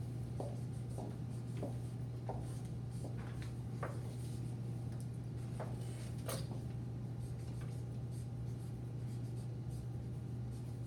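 A pen scratches across paper in short, close strokes with small pauses, faint over a steady low electrical hum, in a classroom setting.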